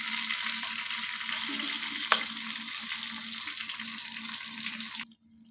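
Spiced boiled chickpeas and potatoes with ground masala fry in a pan with a steady close sizzle, one sharp clink of a utensil midway, and the sizzle cutting off abruptly near the end.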